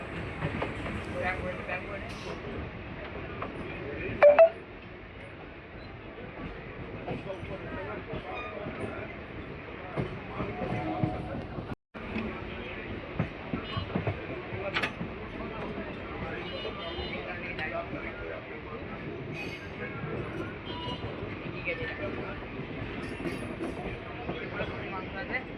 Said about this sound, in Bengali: আমাদের ট্রেন ঢুকছে ব্যান্ডেল জংশন।